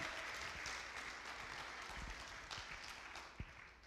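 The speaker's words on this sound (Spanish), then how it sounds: "Dele un fuerte aplauso" Church congregation applauding during a bilingual Spanish-English sermon, a steady wash of clapping from many hands that fills the space throughout, with a few sharper individual claps near the end.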